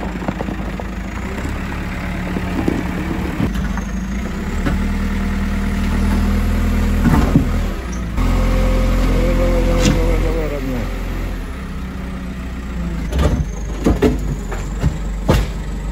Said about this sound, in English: the T-11 bulldozer with its 500 horsepower engine is moving